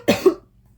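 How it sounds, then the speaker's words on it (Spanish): A single short cough, close and loud, with a quick second push of breath and then silence. "tengo medio tos"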